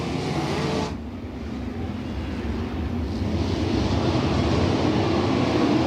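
Race cars at Fremont Speedway roar steadily as a dense engine drone, rising slightly in loudness across the stretch, with broadband rumble and wind-like noise and no talk.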